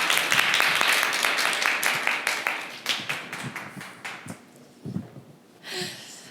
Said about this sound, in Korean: 오늘 좋은 말씀해주신 우리 모종린 교수님께 다시 한번 여러분 큰 박수 부탁드립니다